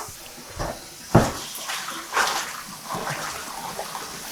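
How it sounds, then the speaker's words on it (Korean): Blanched miyeok seaweed rinsed in a basin of cold water: soft splashes and sloshing, with a few sharper knocks of the bowl or bundle, close by and moderately loud. "그리고 헹궈줍니다. 찬물에. 찬물을 받아 놓고요."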